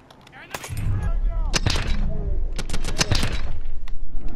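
Rapid bursts of gunfire crack and rattle in Call of Duty: Advanced Warfare campaign combat on veteran difficulty, loud and close, mixed with a voice talking over the shooting.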